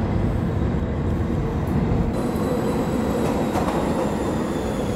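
New York City subway train running, a loud continuous rumble with rattling wheels and faint high metallic squeals, heard from close by inside or beside the car.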